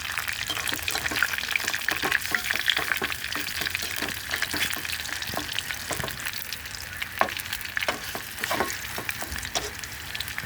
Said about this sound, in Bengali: এখন এগুলো ভালোভাবে বেজে নিব